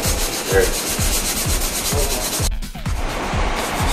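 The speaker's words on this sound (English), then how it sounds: "just doing some minor scraping to make the area more smooth and get rid of the old touch-up paint that was there" Old touch-up paint being scraped and sanded off a car body, a steady rhythmic back-and-forth rubbing of roughly two strokes per second, close and fairly loud, with a brief pause near the end.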